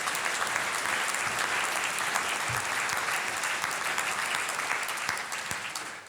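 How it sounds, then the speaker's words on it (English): Applause from an audience at an awards event, a steady patter of clapping at moderate distance that holds evenly and then begins to thin out toward the end. "deserve a wee round of applause"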